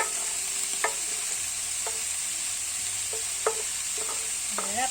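Spoon scraping and clinking in a pan of sizzling fat as grease is drained to one side, with a steady hiss and several short metallic scrapes; no talking.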